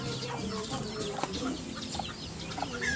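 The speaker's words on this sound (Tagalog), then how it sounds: "nakikita nyo yung mga bibe, mga manok at sisiw" Chickens and chicks clucking in short, scattered calls over a busy farmyard background with ducks, several birds close by and no one speaking.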